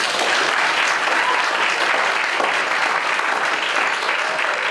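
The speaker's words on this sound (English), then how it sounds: "Everyone, please give Mayor Sarno a warm round of applause." A school attendance celebration audience applauds the mayor, steady dense clapping from a crowd that fills the room at an even, loud level throughout.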